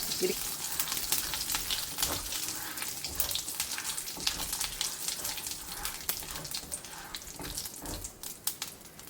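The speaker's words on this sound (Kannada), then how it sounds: "ಇದಕ್ಕೆ ಇನ್ನೊಂದು 2 ಟೇಬಲ್ ಸ್ಪೂನ್ ಆಗೋಷ್ಟು ತುಪ್ಪವನ್ನು ಹಾಕೋಣ" Ghee heating in a pan for a Mangalorean squid ghee roast: a soft, continuous close sizzle and crackle with faint utensil touches, fairly quiet.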